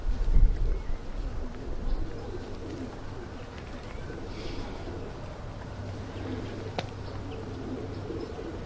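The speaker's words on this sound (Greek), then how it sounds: "έχουν σταματήσει τα πουλιά και πετάνε εκεί πάνω" Flock of show pigeons at a pigeon fanciers' club festival in Volos, cooing softly over steady wind and outdoor noise, with faint wingbeats and a brief louder burst near the start.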